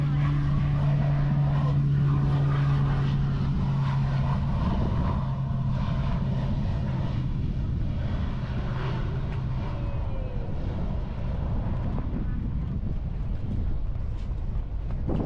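Propeller airplane at Little Farmers Cay Airport, a steady droning engine hum with a strong low tonal buzz that fades over the first half, heard alongside wind noise across the microphone.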